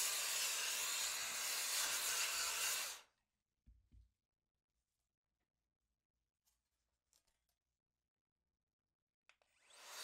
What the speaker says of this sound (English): This particular air duster comes with a bunch of little attachments